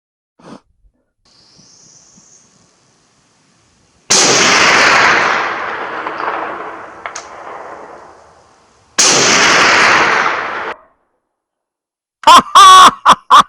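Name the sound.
Inland M1A1 .30 carbine gunshots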